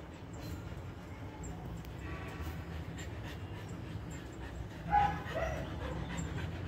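Faint, steady panting comes from a pet dog nearby, with a brief whimper midway and low background noise throughout.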